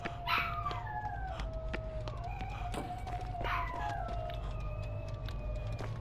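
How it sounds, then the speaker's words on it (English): Several dogs howl and yip faintly in the background, the long wavering calls coming in two rising bursts over a low steady hum, with no talking. "If you hear anything in the background, it's my dogs."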